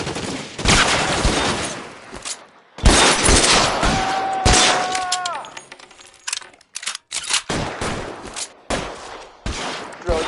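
Bursts of covering gunfire in the LA Noire detective game, sharp cracks coming in uneven clusters over a noisy firefight, with a brief ringing tone partway through and shouted voices in the scene.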